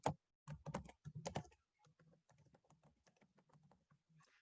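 Someone types an email address and password on a computer keyboard during an online athlete registration, with quick bursts of key taps that start louder and then settle into a steady, softer run of clicks, with no voice.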